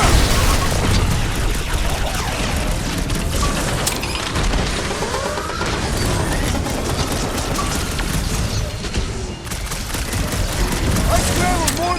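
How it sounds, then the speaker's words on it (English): Loud, dense barrage of game-combat explosions and bursts in Guardians of the Galaxy, continuous booms and crashes layered with voices and battle noise throughout. "Hey, Quill, want to see some fireworks?"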